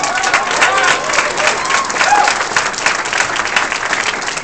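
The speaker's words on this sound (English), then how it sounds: "Give him a round of applause" An audience claps in a sustained round of applause after a call to honor a young leader at a New Mexico political event, dense and steady for several seconds with a faint crowd murmur.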